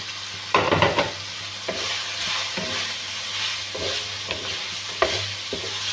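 Carrots and chicken fry in oil in a pan, a steady close sizzle with several louder scraping stirs of a spoon at irregular intervals, no talking.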